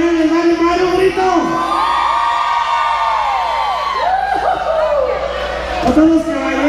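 Loud crowd shouting, whooping and cheering at a concert, a continuous roar with music-like tonal layers and swelling peaks near the end.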